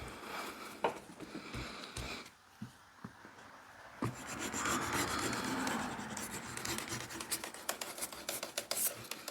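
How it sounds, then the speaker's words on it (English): The smooth side of a leather axe sheath is scuffed with a steady, close rasping rub that grows more continuous in the second half, broken by a few soft knocks. "so now I'm just going to kind of scuff up the surface a little bit."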